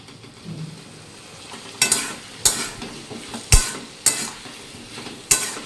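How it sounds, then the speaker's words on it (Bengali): Ginger, cumin powder and coriander powder sauté in a pan, a low sizzle broken by five or six sharp, close clanks of a spoon stirring against the metal, with no voices. "আদা, জিরা গুঁড়ো আর ধনে গুঁড়ো দিয়ে মশলাটা দিয়ে কষে নেব"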